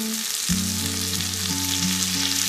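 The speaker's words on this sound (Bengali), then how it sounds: "এখানে আমি পাঁচটা ডিম রান্না করছি" Eggs frying in a pan of hot oil for a spicy Bengali egg curry, a steady close sizzle with broad hiss and crackle running continuously, alone without voices over a low tonal hum.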